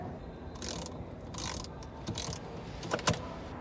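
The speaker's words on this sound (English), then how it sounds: "You're gonna need a 10mm socket with a ratchet." Ratchet with a 10mm socket working a car battery terminal loose, a few bursts of quick clicking, close and fairly quiet over faint background noise.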